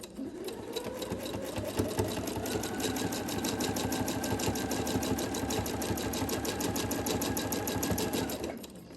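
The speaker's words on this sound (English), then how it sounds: "so I'll go ahead and start slow to begin with, so I try to get as little of a jog as possible in my stitching line" A sewing machine runs steadily for free motion quilting on a quilt-as-you-go block, its rapid even stitching rhythm close and continuous for about eight seconds before stopping, with no talking.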